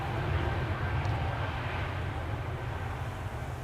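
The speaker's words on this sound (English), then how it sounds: "here we have ITA Airways going to Milan. Bombardier C-Series 100." An ITA Airways Bombardier C-Series 100 departs Amsterdam Schiphol for Milan, a low, steady engine rumble at moderate distance with no talk over it.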